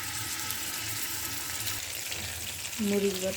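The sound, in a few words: bay leaf, cinnamon and chili paste sizzling in hot oil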